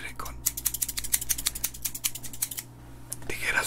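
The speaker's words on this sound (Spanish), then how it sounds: "Hoy regresa el ASMR con tijeras" Close, crisp snips of scissors in a binaural ASMR setting, a rapid run of sharp metallic cuts and clicks, loud near the ear, with a soft voice heard before and after.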